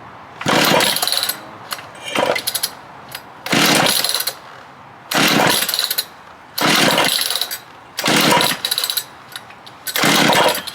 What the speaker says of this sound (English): to test out this here stump grinder